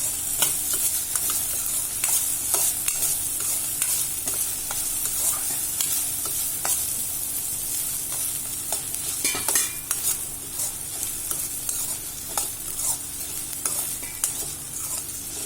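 Okra sautés in oil for an okra rice dish, a continuous close sizzle with frequent scraping and clinking as a spatula stirs it steadily throughout.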